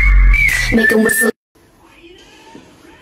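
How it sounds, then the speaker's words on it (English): A man whistles a few bright sustained notes close up, ending abruptly, followed by a short stretch of quiet background noise. "make a whistle."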